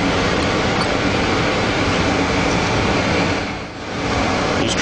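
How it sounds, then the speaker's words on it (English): Steady broadband rush of air flowing through a clean room ventilation system in a hard drive repair lab, continuous and fairly loud, briefly dipping near the end, with no talk. "the noise you hear in the background is actually the air rushing through our clean"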